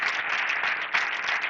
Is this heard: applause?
yes